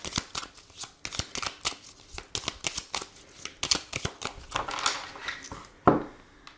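A tarot card deck being shuffled and cut by hand, with quick riffling flicks and soft slaps in bursts, ending in a louder snap and pile of cards, close and clear with no talking.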